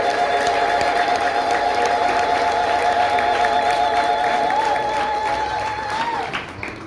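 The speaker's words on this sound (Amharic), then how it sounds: "ለእግዚአብሔር ብዙ ክብር፣ ጭብጨባ፣ እልልታ ይሁን።" An audience at a book launch applauds in a dense, steady wash of clapping, while high, wavering ululation rings through it and fades out near the end.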